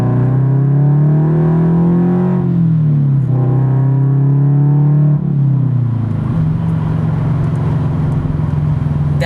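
A Subaru BRZ with an unequal-length header and a tune revs to around 3000 RPM in second gear, a loud, steady, throaty exhaust drone close by that rises and dips in pitch a few times.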